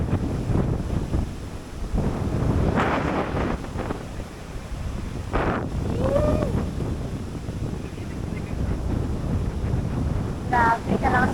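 Strong wind gusting across a beach in Boracay during a storm, buffeting the microphone in heavy roaring bursts over distant surf, with people talking and a voice now and then.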